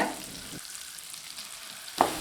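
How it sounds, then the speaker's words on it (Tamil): Chopped jackfruit sizzles and fries in ghee in a pan with a steady close hiss, broken by brief louder stirring noises at the start and end. "பொடியாக நறுக்கின பலாப்பழத்தையும் சேர்த்து நல்லா வதக்கிக்கலாங்க"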